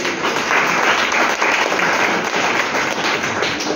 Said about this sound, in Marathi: आपल्या साऱ्या रसिक प्रेक्षकांसाठी एकदा जोरदार टाळ्या होऊन जाऊ.